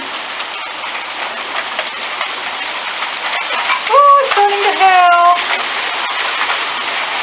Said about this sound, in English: I actually like a good thunderstorm here and there. We need the rain.